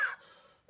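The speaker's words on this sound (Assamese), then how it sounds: "একেবাৰে কাহ হৈ আছে ভাই।" A person gives a single sharp cough indoors, fairly close, followed by a quiet pause and a brief second throat sound at the end.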